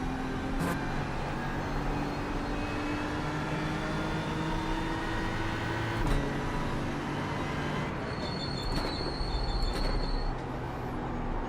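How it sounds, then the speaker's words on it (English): Cold brakes on a BMW M4 GT3 squeal in sustained high tones over a steady, loud engine and road roar while racing in iRacing at Spa-Francorchamps, with a brighter whine rising near the end. "You can just hear how cold the brakes are as well."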